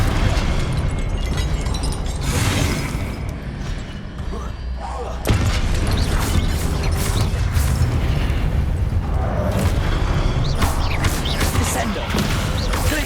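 Spell-casting combat in Hogwarts Legacy: dense, continuous bursts of magical blasts and booming impacts, loud and close, with a brief lull before a sharp crash restarts the clash.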